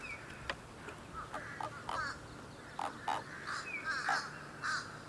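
A bird caught on a fishing hook lets out repeated harsh, raspy caws in short bursts, fairly faint against a low background rumble.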